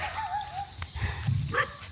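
Dogs bark and yelp in short bursts, fairly close, with a whimpering tone mixed in and some background noise.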